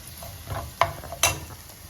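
Drumstick pods and potato pieces stirred in a frying pan over gentle sizzling, with two sharp scrapes of the spoon against the pan standing out among softer stirring sounds.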